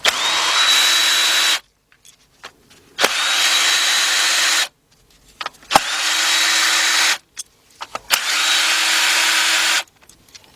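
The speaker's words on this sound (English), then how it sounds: "Hook it on to our cordless gun. And we're going to take off these 4 bolts that are holding down the coils." Cordless impact gun spinning out four coil bolts on a 2003 Nissan Altima 2.5, four loud, steady whirring bursts of about two seconds each, separated by silences with small clicks and clatter.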